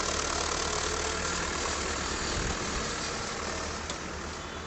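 A tractor engine idles during road levelling with soil, producing a loud, steady, continuous rumble close by that holds constant for the whole stretch, with no talking.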